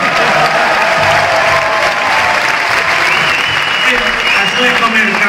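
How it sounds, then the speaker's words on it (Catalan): Loud, dense audience applause at a RAC1 tenth-anniversary live show in Figueres, steady clapping filling the whole stretch with crowd noise and a few voices mixed underneath. "Anava a demanar un aplaudiment pel Justo, però no ha calgut"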